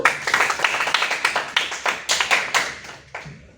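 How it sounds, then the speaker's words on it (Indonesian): Classroom clapping as students applaud a classmate during a population-data lesson, a few hands tapping out quick, uneven claps for about three seconds before fading. "Tepuk tangan buat Ika."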